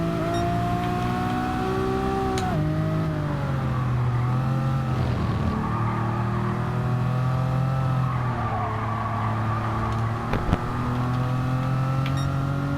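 An Alfa Romeo 4C in Comfort mode drives and accelerates, its engine holding a steady loud drone with the pitch rising and falling across gear changes, plus a short sharp burst near the end.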